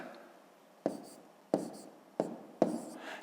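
Pen on paper as long division is written out in a school notebook: a soft scratching stroke followed by four sharp taps and short scribbles, close and quiet, with no talking.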